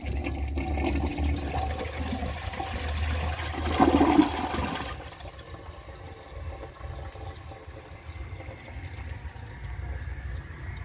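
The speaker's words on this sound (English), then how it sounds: "let's try a washcloth and see how it does" A 2011 Kohler Rialto Ingenium toilet flushes a washcloth: a loud rushing swirl of water for about five seconds, then a quieter steady refill hiss.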